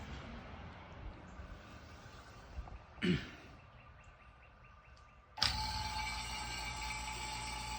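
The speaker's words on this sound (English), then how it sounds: "we're going to turn on the vacuum pump and see if we can get a negative" A vacuum pump switched on to pull down the AC system of a 1972 Corvette Stingray starts abruptly after a quieter stretch with a brief clunk, then runs as a loud, steady mechanical drone close by.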